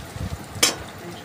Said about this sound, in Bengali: রসুনটা দেওয়ার পর ভালো করে নেড়ে চেড়ে নিয়ে